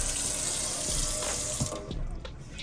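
Water sprays steadily from a newly installed kitchen faucet sprayer into a sink, a loud, close hiss that cuts off partway through, leaving scattered drips and splashes.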